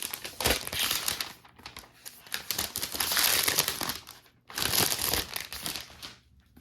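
Plastic wrap crinkles and crackles as it is peeled off a new Apple MacBook Air M1 laptop, in close bursts of dense rustling with short pauses between them and no talking.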